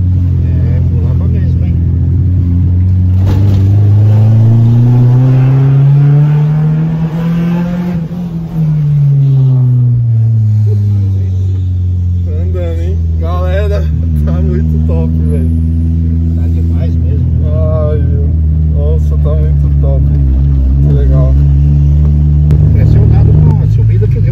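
A loud Fiat Uno 1.6R engine with an FT300 and 288 camshaft revs up and down on a dynamometer, rising to a high roar and dropping back to a deep drone, with people talking over it.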